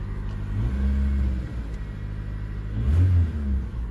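A car engine idles on warm-up and is revved twice, each rev a deep swelling rumble that rises and falls, close and fairly loud with a steady idle between.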